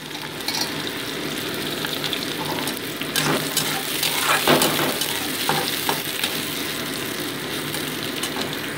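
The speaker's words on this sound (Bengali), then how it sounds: "কড়াইতে সর্ষের তেল গরম বসিয়ে প্রথমে আমি পেঁয়াজ কুচিটাকে অ্যাড করে দিচ্ছি এর মধ্যে" Chopped onions fry in hot mustard oil in a wok, giving a dense, loud, continuous crackling sizzle with occasional stirring scrapes that swell briefly midway, close up and with no speech.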